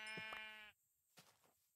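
A sheep in Minecraft gives one clear, close bleat, followed by a short soft thud.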